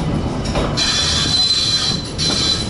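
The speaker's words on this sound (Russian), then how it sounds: "Трамваи ходят каждые 30 секунд, и такой скрип очень громкий." Tram wheels squeal loudly on rails under repair on an Istanbul street, a piercing, sustained metallic screech over rumbling rolling noise, very close and continuous.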